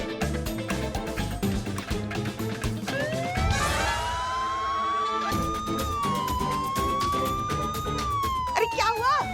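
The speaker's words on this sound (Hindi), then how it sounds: "मेरा सायरन क्यों बजा रही हो?" A police car siren in a TV drama wails and sweeps up and down over dense background music, loud and steady throughout.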